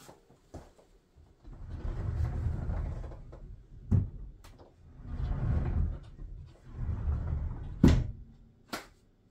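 A heavy homemade sliding closet barn door weighing about 45 pounds rolls back and forth along its track hardware in three long rumbling passes, each ending in a sharp thud or clack, close and moderately loud.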